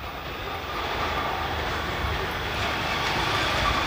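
Inside a tunnel in Bananeiras, Paraíba, a motorcycle taxi's engine rumbles past, loud and boomy, echoing off the walls as a steady, reverberant roar that swells slightly toward the end.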